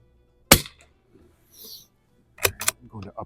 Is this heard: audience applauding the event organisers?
no